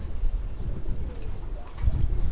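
Pigeons cooing in a home loft, soft low murmuring coos over a rustling, rain-like background hiss, fairly close.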